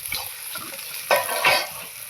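Potatoes fry in a pan for a rural village picnic, giving a steady broadband sizzle with two louder bursts of scraping and stirring about a second apart. The sound is close and moderately loud, with no speech.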